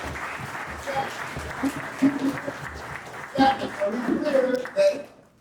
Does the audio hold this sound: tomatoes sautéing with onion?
no